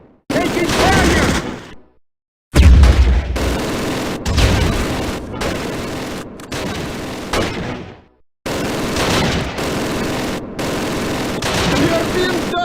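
Gunfire from the World War II tactical game Close Combat, dense bursts and booming shots rolling on continuously with brief silent gaps, loud and close, with voices shouting over the battle.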